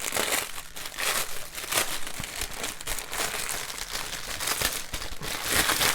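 Plastic wrapping around a burlap-like flower pot crinkles and crackles in steady, close bursts for several seconds, with no one talking.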